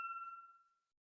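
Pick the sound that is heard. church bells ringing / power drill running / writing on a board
church bells ringing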